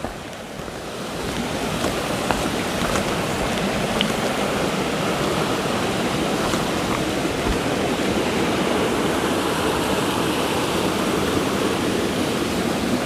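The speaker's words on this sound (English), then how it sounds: "refilled all my water bottles out of this nice little stream here." A small stream flows steadily in the woods beside the Appalachian Trail, a continuous, close, broadband rush of water with no voices over it.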